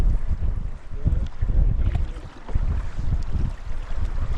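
Wind and waves on a big lake while canoeing, with gusting wind buffeting the microphone and low, irregular water sloshing against the hull, loud and close throughout, no talking.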